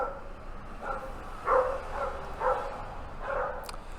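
Two dogs bark at people passing on a street, with about five spaced barks over a few seconds. The barks sound moderately distant and there is no speech over them.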